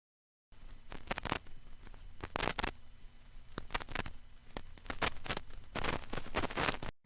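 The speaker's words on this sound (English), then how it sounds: "you can hear some pretty basic vinyl noise" Vinyl noise sample: sparse crackles and pops scattered over a faint hiss, irregular clicks alone with no other sound.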